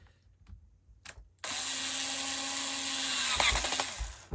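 A power screwdriver runs steadily for about three seconds while tightening screws during an Aqualisa A2 Quartz Grey shower repair, with a brief whir just before and a short burst right at the end.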